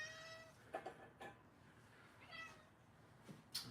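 A pet cat meows several times indoors, a faint, drawn-out cry followed by shorter chirping meows spread over a few seconds, with no talk over it.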